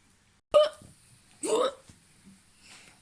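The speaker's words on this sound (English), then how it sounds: "I've heard you've got hiccups." Sharp hiccups, two distinct loud gulps about a second apart, close and clear, followed by faint quiet sounds.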